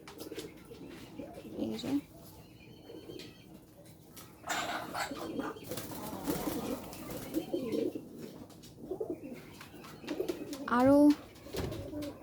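Pigeons coo softly and repeatedly near a nest with freshly laid eggs, in short low calls scattered through the clip, while a person speaks intermittently.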